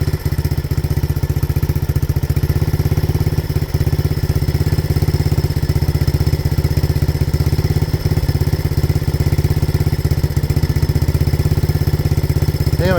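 A 1985 Honda ATC 200X three-wheeler with a new exhaust idles steadily at close range, its single-cylinder engine giving an even, rapid low thump that holds without a break.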